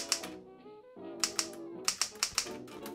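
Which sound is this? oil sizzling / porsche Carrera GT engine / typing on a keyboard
typing on a keyboard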